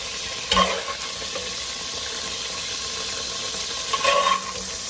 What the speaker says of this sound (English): And then we're going to add in our vegetables.